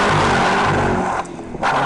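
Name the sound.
2011 Cadillac CTS-V Coupe engine accelerating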